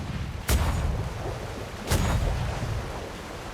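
Two heavy cannon booms from a ship's guns firing sail shots in a naval role-play game, spaced about a second and a half apart over a steady rumbling background, each blast loud with a short rolling tail.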